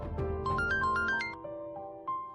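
A phone ringtone plays a bright, stepped electronic melody of short rising and falling notes, loud and close, repeating once after a brief pause, in a domestic scene from a Marathi TV serial.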